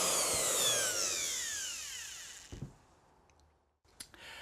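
A plunge router takes its first pass cutting a groove in wood, a loud high whine with sweeping pitch that winds down to near silence, followed by a couple of short knocks and clicks.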